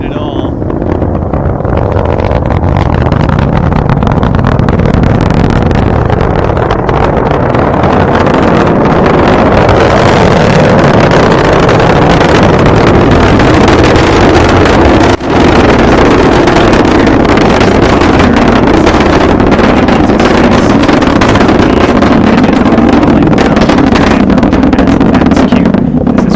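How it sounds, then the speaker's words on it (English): A SpaceX Falcon 9 rocket lifts off carrying the SARah-1 satellite, its broad, rumbling roar loud and continuous with wind buffeting the microphone, while people talk over it. "Audio confirmation of a liftoff."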